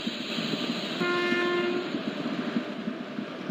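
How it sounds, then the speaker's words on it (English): In a train simulator, a new AJJ WAG 7 electric locomotive hauls the TBM–NCJ Antyodaya Express with a steady rumble and rhythmic wheel clatter, and a sustained horn blast sounds partway through. "we are going to drive a train that is TBM NCJ Antyodaya Express with brand new AJJ WAG 7 locomotive"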